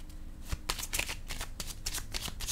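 A deck of cards is shuffled close up, a fast riffling flutter of rapid crisp flicks lasting a few seconds with no voices.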